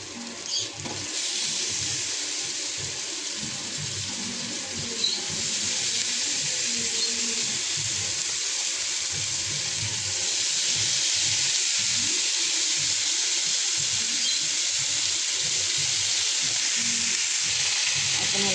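Cluster beans sauté in a pan with onion, tomato and garlic masala, giving a steady, fairly loud sizzle with faint stirring throughout.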